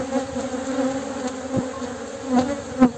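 Honeybees hum steadily at close range while a split hive is opened for its first inspection four days after splitting, a dense continuous buzz with a few sharp knocks from handling the frames.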